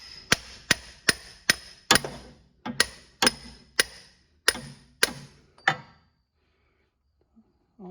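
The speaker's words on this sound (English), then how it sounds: "I get a little bigger hammer so I have a little bit of flatness against this tool here" Hammer blows against a tool extension under a Honda Fit, about ten sharp metallic strikes at a steady pace, close and loud, stopping near the end.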